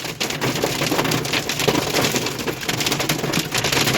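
Hail pelts the body and roof of a Cummins-powered pickup truck in a sudden storm, a dense, steady clatter of countless hard impacts that stays loud and close throughout without any speech.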